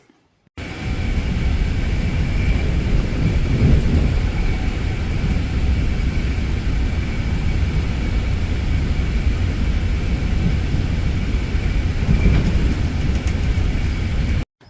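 A steady, loud low rumble of a moving train interior, continuous droning roar with faint rattling throughout.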